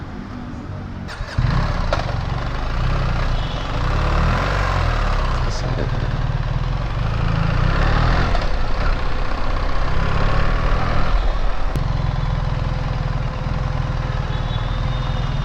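A BMW 1300 GS motorcycle engine runs steadily while riding, a loud continuous drone with a brief rev surge near the start, and someone talks over it throughout.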